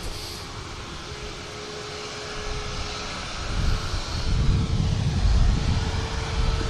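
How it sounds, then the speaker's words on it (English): A Ryanair Boeing 737 MAX 8200 jet taxis at an airport departing for Porto, its engine noise a steady broadband rumble that swells louder partway through, with a faint whine held underneath. "Max 8200 next to go. Ryanair for Porto just beginning its taxi."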